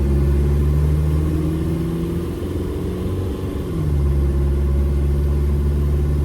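Jeep Wrangler with a TDI diesel engine and AW4 transmission cruising at light throttle; a steady, loud low engine drone and road rumble, with pitch easing down midway then holding steady.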